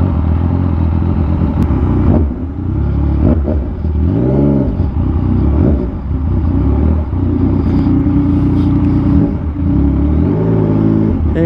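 A Yamaha MT-09 motorcycle rides through slow EDSA traffic, its engine loud and close, repeatedly revving and falling back with clattering mechanical noise amid the surrounding road rumble.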